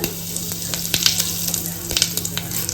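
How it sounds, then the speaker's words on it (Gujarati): Cumin seeds and asafoetida sizzling in hot oil for a vegetable tempering, a loud close continuous crackle with sharp spitting pops scattered throughout and faint stirring, with no talk over it. "જીરું નાખશું થોડી નાખશું હિંગ"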